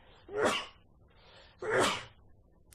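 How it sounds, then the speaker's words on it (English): Two sharp sneezes about a second apart, close and fairly loud, with a quiet pause between them and a small click at the end. "That was the first time I've ever sneezed on this podcast, I think."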